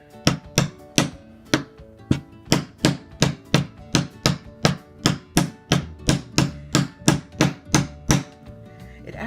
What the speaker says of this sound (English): You're just gonna set it down, your stamp, and tap once or twice.